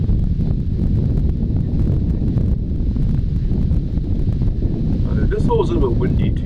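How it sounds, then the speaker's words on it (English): Steady wind buffets the microphone on a disc golf course during light sprinkles of rain, a dense low roar that runs the whole time, with a brief voice-like sound near the end. "This hole is a little bit windy too"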